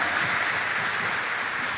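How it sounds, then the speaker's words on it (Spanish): A brief burst of steady applause from a church congregation, even and continuous throughout, at moderate volume. "Dale un aplauso al Señor"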